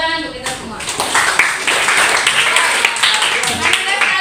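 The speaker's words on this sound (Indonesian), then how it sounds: "Tepuk tangan untuk kita semua." A classroom group claps together after a teacher's prompt, with a burst of uneven hand claps that runs for a few seconds and blends with voices.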